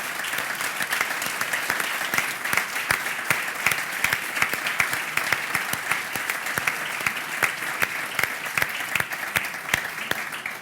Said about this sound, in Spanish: me gustaría que todos le diéramos un aplauso